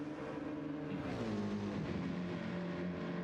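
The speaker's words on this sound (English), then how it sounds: "Yeah, Slow might be revving it out." Race car engine in Gran Turismo 7 during a GT sprint championship, a steady loud drone that shifts pitch as it revs, continuous throughout without voices.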